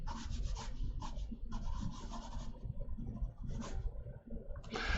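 A pen or pencil scratches across paper while signing a sketch, with short bursts of close rubbing strokes broken by brief pauses and no voices.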